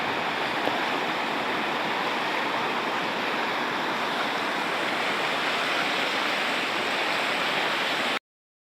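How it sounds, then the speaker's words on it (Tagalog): Strong current of the Mayhay River rushing beneath a bridge, a dense continuous roar of flowing water that holds steady throughout before cutting off abruptly, with no talking. "Grabe lakas ng agos"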